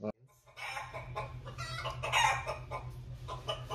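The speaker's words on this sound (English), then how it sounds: "so those are the chickens" A crowd of chickens clucks and squawks continuously nearby, overlapping calls rising and falling over a steady low mechanical hum, captured through a headset microphone.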